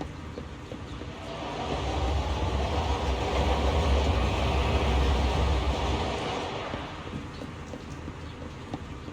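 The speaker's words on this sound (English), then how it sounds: "That was a train passing by." A train rolls past in a video game, a loud steady rumble that swells over a few seconds, holds, then slowly fades, with no voices over it.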